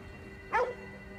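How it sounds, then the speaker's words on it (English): A single short dog bark from a puppy in the video game Ghostwire: Tokyo, sharp and mid-distance over a quiet background hum. "What's he barking at?"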